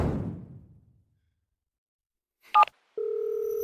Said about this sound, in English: Let's see if today you can make my phone ring.